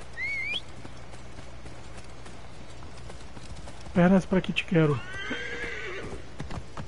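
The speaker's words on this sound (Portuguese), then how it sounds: "O cavalo dá o jump de vez em quando." A horse whinnies loudly in the Assassin's Creed Origins video game, a shrill neigh rising over a steady game background, while someone talks before and around it.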